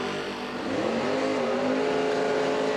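Drag racing cars launch off the line at a strip, front wheels lifting, engines snarling loud and close as the roar climbs in pitch through a hard acceleration, with no voices.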